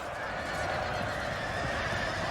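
Cavalry dragoon horses in the Napoleon: Total War battle game give faint whinnies over a steady distant wash of battlefield noise, low in level, with no speech.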